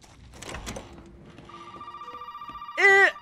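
A telephone rings in the video game Resident Evil 7, rising tones building into a loud, shrill ring near the end, heard alone without talking.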